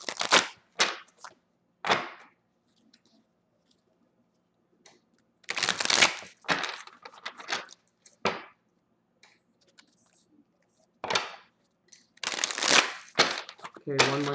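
A deck of cards is shuffled by hand in several sharp riffling bursts, close and crisp, separated by quiet gaps.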